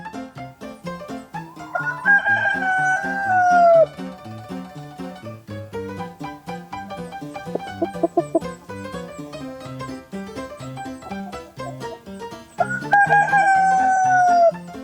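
A rooster crows loudly twice, a long rising-then-falling call near the start and again at the end, over a busy background of music-like tones.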